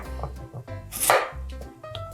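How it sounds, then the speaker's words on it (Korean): A knife dicing two large potatoes into cubes on a cutting board in a home kitchen, with a few soft, irregular chopping taps and one brighter scraping stroke, close and fairly quiet. "감자는 모양대로 깍둑 썰기를 해주세요."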